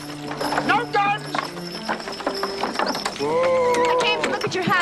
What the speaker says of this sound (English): What are the horses, Ivar?